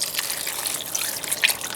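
Water pours into a pot of brine made with salt, garlic salt and chili flakes, giving a soft, steady splashing and gushing that lasts under two seconds with no voices.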